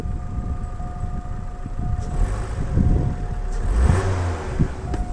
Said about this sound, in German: läuft der Motor rund. Und läuft der rund, wenn wir auch ab und zu mal kurz ein bisschen Gas geben